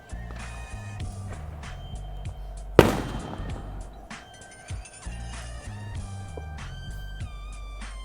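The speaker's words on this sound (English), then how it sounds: "They've been lighting fireworks since the end of May." A single sharp firework bang goes off outside, loud and sudden, over a steady background of music, with a fainter crackle and pop a couple of seconds later.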